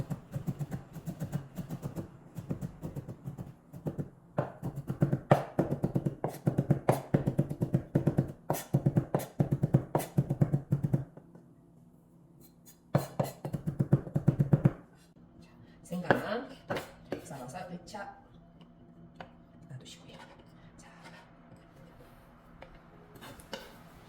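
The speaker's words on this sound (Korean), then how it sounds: "편 썰어서 채 썰어서 자, 그대로 다지도록 하겠습니다." A knife minces sliced ingredients on a cutting board for a Korean cooking-exam pork dish, with rapid close chopping taps in dense bursts, a short pause, then more scattered taps while a person talks over parts of it.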